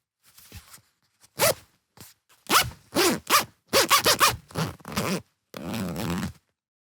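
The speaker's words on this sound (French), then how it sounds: "La bonne réponse, c'était un zipper. Eh oui, une fermeture éclair." A coat zipper drawn open or shut in a series of sharp, raspy zips of varying length, close and loud, with short pauses between strokes and no talking.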